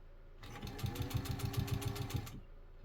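A freshly restored and repainted Singer 201 sewing machine stitches through layers of garment leather and canvas, giving a quick, even mechanical chatter for about two seconds, close up and fairly quiet, with no voices.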